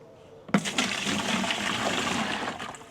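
Water pours steadily into a container for mixing seed-starting mix with peat moss, a sudden splash at the start followed by a continuous close rushing fill with no talk.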